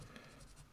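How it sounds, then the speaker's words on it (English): A pen writing a signature on a watercolour urban sketch of a street and house: a short, faint scratchy stroke of nib on paper, close and quiet. "Add my signature."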